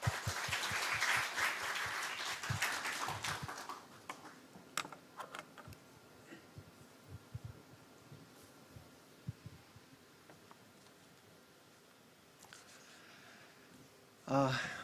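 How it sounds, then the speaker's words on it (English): Applause at a science camp welcome ceremony for a ministry director, loud and dense for about four seconds, then thinning into scattered individual claps and faint room noise before a brief final burst. "Please welcome him with a big round of applause."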